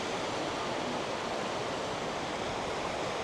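Broad, steady rush of a wide river flowing under a bridge near Shirakawa-go, Japan, a constant hiss-like roar with no voices.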